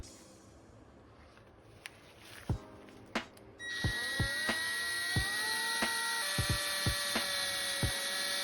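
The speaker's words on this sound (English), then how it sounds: "wrapped it around a drill bit, added some WD-40 and spun this construction inside the cylinder" A drill spins a polishing strip loaded with paste and WD-40 inside an engine cylinder, starting with sharp knocks and scrapes before rising into a steady whirring whine with a few rattling taps, close and fairly loud.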